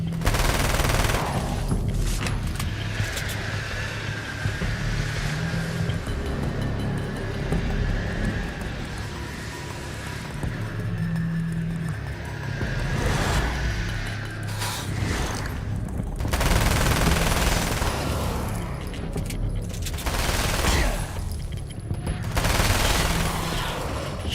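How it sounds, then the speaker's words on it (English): Sustained automatic gunfire in the action game Alan Wake's American Nightmare, a long loud fusillade of rapid shots that keeps going with brief pauses, under a dense layer of game noise and no talking. "Shooting him like point blank in the face."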